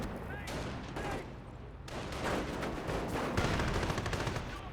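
Company of Heroes video game battle with artillery fire and gunfire, a dense run of booming impacts and rattling shots, fairly loud and continuous, with some voice in the mix.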